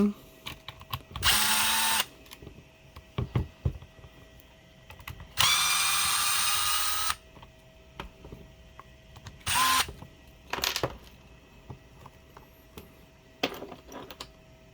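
Cordless driver fitted with a T15 bit backing out thick screws from a DeWALT 20V Max DCS438 cut-off tool, several short whirring bursts separated by clicks and handling clatter, close and loud.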